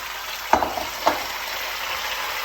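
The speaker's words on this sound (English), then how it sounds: "Make sure you stir and you turn the tomatoes all the time" Tomatoes sizzle steadily in a hot pan, close up, while a utensil stirs and turns them, giving two distinct scraping knocks. No voices are heard.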